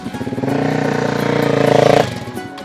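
A motorcycle engine runs loud and close with a pulsing rev, swelling for about two seconds, then drops off sharply as the bike pulls away, leaving a fainter receding rumble.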